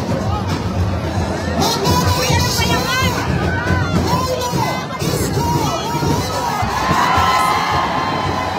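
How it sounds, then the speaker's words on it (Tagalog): A large outdoor crowd gathered at a city hall cheers and shouts continuously, a loud roaring mass of voices with whoops and children's shrieks, with a nearby voice talking over it. "Grabe hiyawan, no?"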